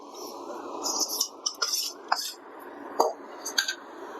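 Pirandai pickle ingredients being mixed in an iron kadai, giving soft scraping and clinking of a spoon against metal, with several sharper knocks over a steady low rustle, close and fairly quiet.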